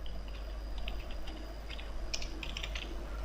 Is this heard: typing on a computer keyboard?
yes